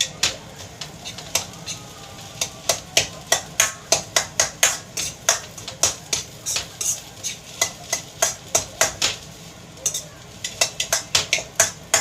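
A utensil stirring rice in a pot while cooking, with steady rhythmic clinks and scrapes against the metal, repeating quickly and nearby over a soft sizzle.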